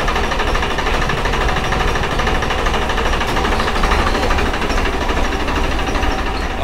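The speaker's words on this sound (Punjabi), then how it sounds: "ਆ ਟਰੈਕਟਰ ਕੱਢਤਾ ਬਾਹਰ ਆਪਾਂ ਤਿਆਰ ਕਰਕੇ" A Farmtrac tractor's diesel engine runs steadily nearby, a continuous hard, rattling knock at an even rhythm with no pauses and no speech.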